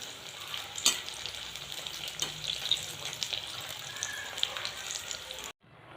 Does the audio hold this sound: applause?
no